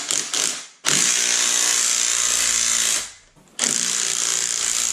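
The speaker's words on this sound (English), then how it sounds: "If you're using an impact," An impact wrench loosens suspension bolts during a spring change, sounding in two long, loud, steady whirring bursts separated by a brief pause, with a couple of short stuttering hits at the start.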